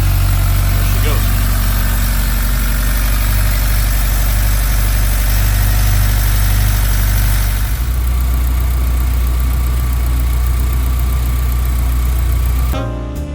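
A Honda S2000's 2.4-litre engine idles just after starting, a loud, steady drone up close that deepens slightly partway through and then cuts off at the end.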